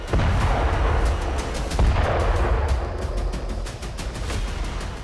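Explosions in southern Lebanon destroy Hezbollah rocket launchers and stored drones: a loud, continuous rumbling roar broken by repeated sharp cracks and booms, with no voices.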